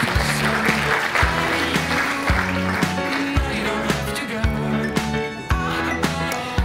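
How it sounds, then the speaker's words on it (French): An audience applauds award winners at an organic products ceremony, clapping running continuously beneath loud rhythmic background music with a steady beat. "On les applaudit."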